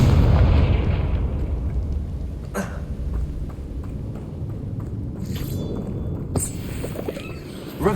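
The Confringo explosive spell cast in the Hogwarts Legacy video game, opening with a loud booming blast whose rumble slowly fades, followed by a few lighter crackling hits and a fresh burst at the end.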